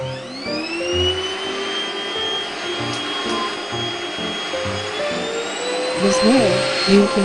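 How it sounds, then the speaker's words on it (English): A vacuum cleaner runs in a hotel, a steady whining motor drone with a high tonal hum that shifts pitch as it works, heard close and continuous while a person talks over it. "There was a vacuum cleaner."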